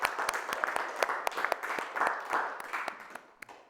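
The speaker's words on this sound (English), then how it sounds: "we'll give Pickles and Nick an applause for their fantastic job scribing" Audience at a permaculture teacher-training workshop clapping in a modest, uneven round of applause that thins out toward the end, with individual sharp claps standing out.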